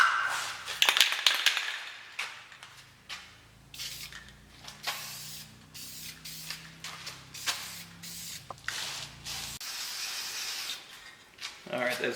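Aerosol paint can spraying a fabricated transmission cross member in a workshop, several hissing bursts of varying length with short pauses, some faint rubbing and a quiet voice between passes.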